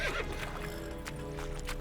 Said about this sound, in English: I think I just killed my horse.